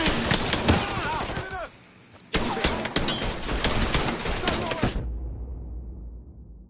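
Mafia 3 gunfire: loud bursts of rapid shots with a brief lull, then more firing that cuts off abruptly, leaving a faint low rumble.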